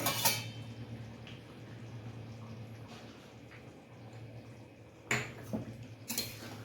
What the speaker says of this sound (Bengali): গরম মশলাটা দিয়ে একটু নেড়ে দিই